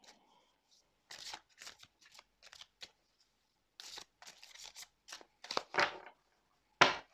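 A deck of oracle cards is shuffled by hand in a quiet room, several short riffling bursts of crisp card flutter separated by brief pauses, close and fairly soft.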